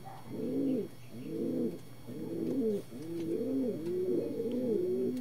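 Racing pigeons coo in a repeated series of low, rolling calls, close and clear with brief pauses between phrases and no talking.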